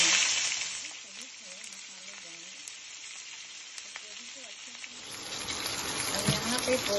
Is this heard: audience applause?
no